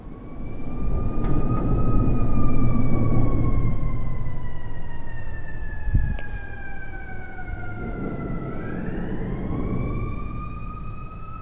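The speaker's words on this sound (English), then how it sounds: "Sorry about the ambulance noise." An ambulance siren wails loudly with a long sweeping tone that slides down and then rises again, over heavy traffic rumble.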